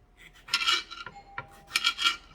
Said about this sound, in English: I'm just going to keep slicing these tomatoes.